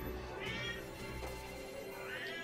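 A pet cat with bad kidneys meows twice, rising drawn-out cries spaced apart, faint under low room noise.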